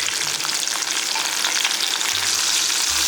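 Crabs go into a pan of frying garlic and ginger, giving a dense, continuous, loud sizzle with crackling oil and faint scraping of the pan, close up and with no talking.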